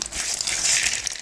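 Brief, crisp crackling and crunching as fried kara sev is snapped and crumbled up close, with no talking.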